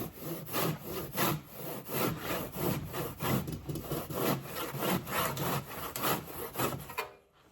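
Timberbatt insulation batt is cut with steady, rhythmic back-and-forth rasping strokes, about a dozen in quick succession, heard close and clear before stopping abruptly near the end.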